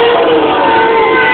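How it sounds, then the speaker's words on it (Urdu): A dense crowd of party workers chants slogans for Altaf Hussain in a loud, continuous roar of massed voices with cheering and shouts, men and women together, close and steady throughout. "رہبر رہبر الطاف ہمارا رہبر کے نعرے لگا رہے ہیں"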